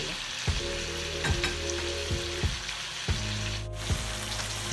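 Butternut squash and egg stir-fried in a hot pan, with a steady loud sizzle broken by repeated scraping strokes of the spatula, close up and without talk.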